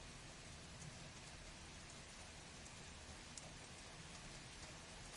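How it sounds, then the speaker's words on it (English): Steady rain falling, a dense, even hiss of drops that holds at a constant level throughout with no voices or other sounds on top. "It's just this rain."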